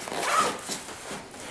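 A zipper runs briefly on a side pocket of a Maxpedition Fliegerduffel bag, one quick close pull lasting about a second, with no talking.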